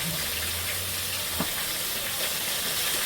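Mustard oil sizzling and crackling steadily in a hot pan while cooking tilapia fish curry, a continuous close hiss with a brief clink partway through.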